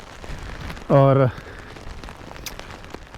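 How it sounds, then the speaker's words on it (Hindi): Heavy rain at Lake Titicaca in Bolivia, a steady close patter of drops on surfaces, briefly interrupted by a short spoken word. "ये बारिश इतनी तेज़ हो रही है"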